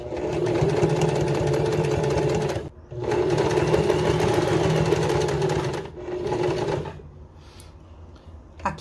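A sewing machine stitches a fabric placemat in a steady, loud whirring run, pauses briefly, runs again at full speed, then continues at a slower, lighter pace.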